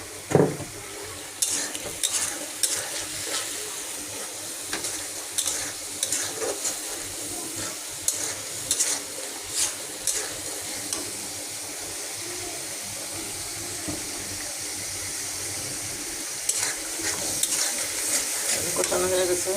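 Spice masala being fried and stirred in a pan for a home lunch curry, with a continuous sizzle and frequent clattering scrapes of a spoon against the pan, while a voice speaks intermittently over the cooking.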